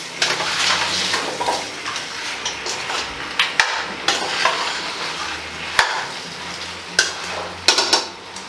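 A spoon stirs beef stew with vegetables in a pot over steady sizzling, with scraping strokes and occasional sharp clinks against the pot, close by and without talk.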